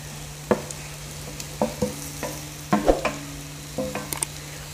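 Fried bitter gourd is turned into masala in a pan: a series of scattered spoon clinks and scrapes over a faint sizzle and a low steady hum.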